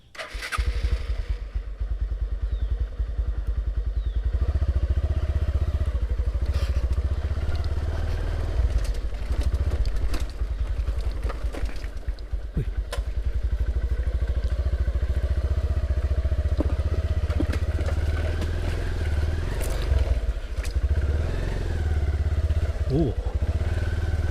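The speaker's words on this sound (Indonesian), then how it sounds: "Dia takut denger suara motor." A motorcycle engine runs continuously and loudly nearby at a campsite in the Megamendung area of Puncak, with rattly clatter and voices faintly underneath throughout.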